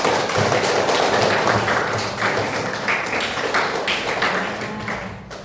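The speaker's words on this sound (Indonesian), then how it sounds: "Tepuk tangan untuk kita." A classroom of children applauds together, a dense, loud burst of clapping that holds steady and then thins and fades toward the end.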